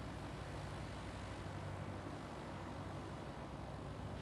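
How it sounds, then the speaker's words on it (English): Fully loaded cargo helicopter flying in the Space Engineers video game, giving a faint, steady, droning engine hum that continues unchanged throughout without speech. "the helicopter can fly fully loaded"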